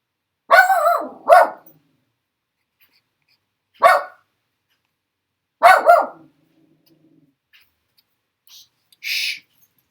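A dog barks indoors in a quiet room, four sharp separate barks spaced a couple of seconds apart, followed by a faint softer sound near the end.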